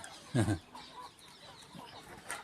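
A chicken lets out a short, fairly close cluck, followed by faint farmyard background and a few softer sounds.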